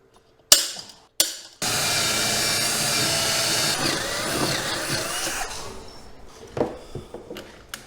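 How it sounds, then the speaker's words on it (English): Two sharp clicks, then a power drill whirring steadily for several seconds while drilling holes in a golf cart body, winding down, followed by scattered tool clatter. "I got to drill a couple holes"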